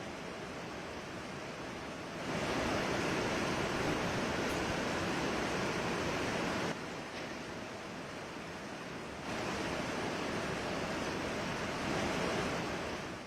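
Stream water from a drain pours like a waterfall onto a mountain road near Munsiyari after heavy overnight rain, a steady loud rushing roar that swells and eases in stretches with no voices.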